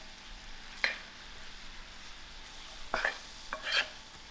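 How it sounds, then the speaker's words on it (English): Flour cooking in melted butter for a roux gets stirred in a pan, giving three soft scraping strokes spaced apart over a faint, steady low hiss. "To my melted butter, I'm going to add in my 2 tablespoons of flour and allow this flour to cook out."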